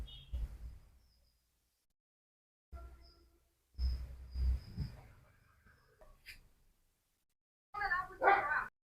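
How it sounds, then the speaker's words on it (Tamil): A dog barks and yelps in short bursts at a hidden snake, with pauses of silence between, followed by a higher whining yip near the end. "நாய் டிஃப்ரெண்ட்டாக கத்துச்சா"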